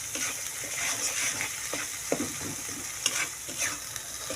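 Chepa dried fish fries in a kadai, a gentle steady sizzle with occasional spatula scrapes and a couple of sharper knocks against the pan, up close.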